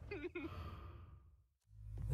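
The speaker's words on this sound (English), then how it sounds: "And now he's panting." A character in the video game Killer7 pants and sighs, a few close breathy exhalations followed by a brief gap and rising background noise.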